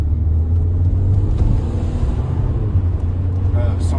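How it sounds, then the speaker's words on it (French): A Mini with a 184 hp engine rolls along a straight road, its low steady rumble and road noise filling the cabin while a person talks over it. "Je vais accélérer un petit peu, vous montrer que le véhicule fonctionne bien."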